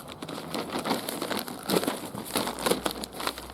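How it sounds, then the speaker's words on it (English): Black plastic tub liner sliced open with a scalpel and Felco secateurs, giving a continuous close crinkling and crackling with sharper snips and tearing bursts throughout, no voice. "taking my trusty scalpel, the old Felco secateurs, let's cut into this"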